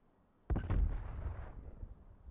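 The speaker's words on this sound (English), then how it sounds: "I saw the explosion" Grenade blast in Call of Duty Cold War: one sudden, heavy explosion bursts out of near-quiet, then a rumbling tail fades slowly over the next second or so, with no voices.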